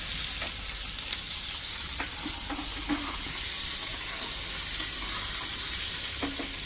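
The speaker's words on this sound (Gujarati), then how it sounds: "હવે એમાં બટેટા નાખી દીધા કટ કરેલા" Cut potatoes sizzle and fry in hot oil spiced with turmeric and salt for a dry potato dish, a continuous close hiss broken by occasional light scrapes and clinks of stirring.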